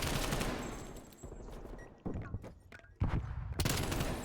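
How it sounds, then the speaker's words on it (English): Rapid bursts of gunfire from a Call of Duty collegiate match, with clustered automatic shots and sharp cracks in quick succession, fairly close and loud, with a commentator talking over parts of the action. "Doza with some great shots on the Cody"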